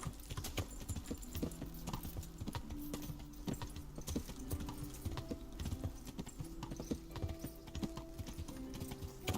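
Horse hooves clip-clop steadily along a road in Kingdom Come Deliverance, a close, continuous rhythm of hoof strikes alongside soft game ambience, with no talking.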